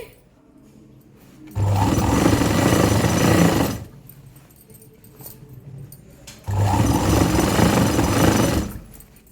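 A sewing machine runs double stitching along tight-fitting pants, in two loud sustained bursts of about two and three seconds, separated by a quieter pause.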